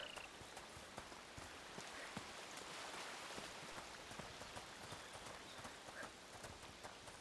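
Horse hooves clip-clop at a steady walking rhythm in A Plague Tale: Requiem, faint and quiet under a constant patter of rain.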